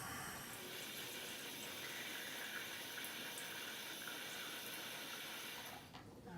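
Kangen electrolyzed water runs steadily from an electrolyzer tap at a slowed flow rate, a constant close hissing stream with faint mechanical ticking that eases off near the end.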